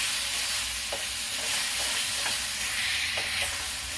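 Onion, ginger and garlic paste sautéing in a pan, giving a steady close sizzle with a few soft scraping stirs and no voices.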